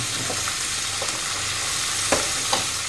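Steady, close sizzling of ghee tempering in a hot pan while making tomato jam: a continuous hiss with a few sharp pops and scrapes, no voices.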